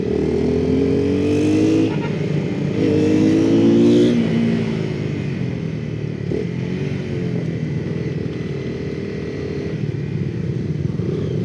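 A Honda CBR 250R and a KTM Duke 250 ride together on a road, engines droning and rising in pitch as they accelerate, loud and close, over steady wind rush.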